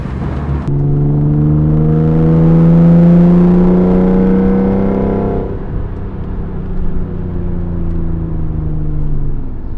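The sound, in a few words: Nissan 300ZX loud engine and exhaust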